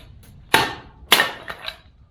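Hammer striking a kindling cracker to split firewood: two sharp, loud metallic impacts about half a second apart, followed by a few fainter knocks and cracks.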